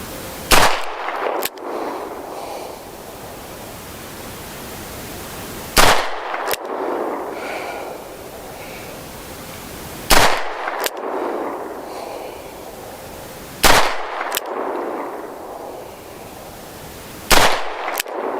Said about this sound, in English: I should shoot this revolver a lot more because it's so good to shoot.